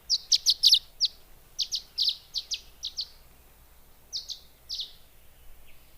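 A violet-green swallow gives a series of shrill, high cheeps in quick clustered bursts, then a pause, then a few more, clear against a quiet outdoor background in Knickerbocker Canyon near Big Bear Lake.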